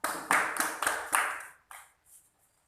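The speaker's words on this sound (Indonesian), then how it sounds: "Beri give applause untuk Ari Suragunawan." A classroom gives a student a short round of applause: several quick bursts of clapping close by, thinning out and fading to a few scattered claps.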